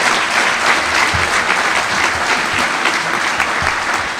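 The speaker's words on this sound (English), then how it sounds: "And just a round of applause for them," Strong, continuous applause from a crowd at a Music City Roundup gathering, thick steady clapping filling the whole stretch without a break.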